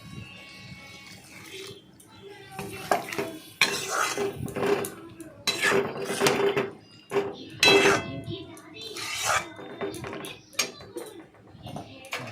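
Food stirred in a metal pot after water goes in for a mustard-pointed gourd curry: repeated loud scraping and clanking of a spoon against the pot in uneven bursts, close by, with no voices.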